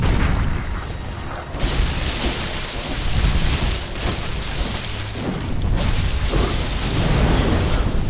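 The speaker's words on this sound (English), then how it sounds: "Bringing out the thunder." Thunder unleashed during a game hunt rolls as loud, sustained rumbling booms that surge and ease in waves, with no voices.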